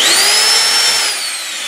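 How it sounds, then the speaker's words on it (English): A power drill runs in reverse, a loud close motor whine that holds a steady pitch then drops slightly in level as it winds down. "So when you drill in, you want to hold the handle here because it's going to want to torque like this on you"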